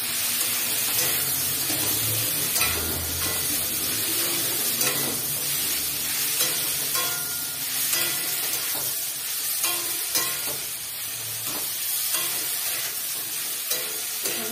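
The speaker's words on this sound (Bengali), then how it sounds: "এই যে চিকেনগুলো ভাজা ভাজা হয়ে গেছে, হাই ফ্লেমে ভাজা ভাজা হয়ে গেছে।" Half-boiled chicken fries over a high flame with a continuous close sizzle, broken by scraping and clinking as the pieces are stirred in the pan.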